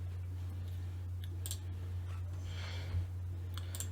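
Quiet mouse clicks sound over a low steady hum while publishing a video in a YouTube upload page, a few faint separate clicks scattered across the few seconds.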